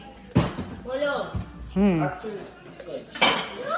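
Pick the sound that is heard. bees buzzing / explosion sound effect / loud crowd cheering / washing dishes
washing dishes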